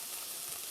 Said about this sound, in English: you can hear that starting to get brown. So I'm going to let it sizzle for a minute